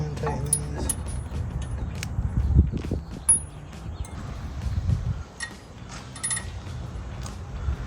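Hand threading and tightening lug nuts on a Ford F-150 front wheel hub and bearing assembly, with light metallic clicks, jingles and scrapes as someone speaks quietly.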